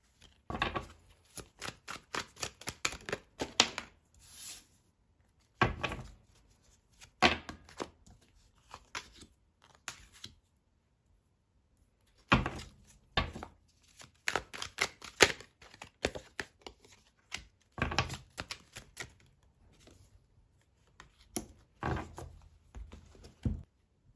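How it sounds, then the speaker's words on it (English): A deck of tarot cards being reshuffled, quiet bursts of riffling and flicking card sounds in irregular clusters separated by short pauses, close and soft with no talking. "Hold on, let me reshuffle here."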